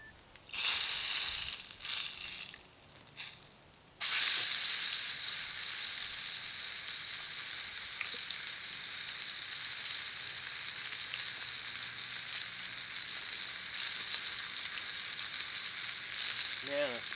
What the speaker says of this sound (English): It's gonna sizzle and pop good.